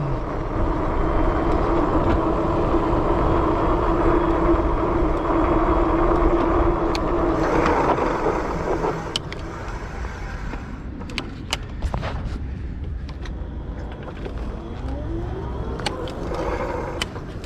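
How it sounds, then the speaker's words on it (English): A HeyBike Explore e-bike rolls over a very bumpy old brick road, a loud continuous rumble of tyres and rattling for the first half, then quieter riding with scattered sharp knocks and clunks up close. "It's very, very bumpy. It's an old brick road."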